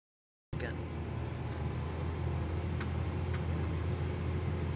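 A tractor pulling a chisel plow through a field holds a steady, heavy engine drone under load after starting abruptly, with a few faint clanks over the constant low rumble.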